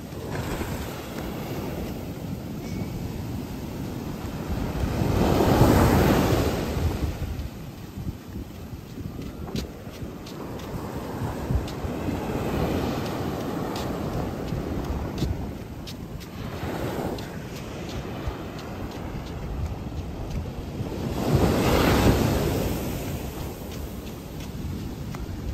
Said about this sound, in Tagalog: Grabing alon ngayon, kuya, no?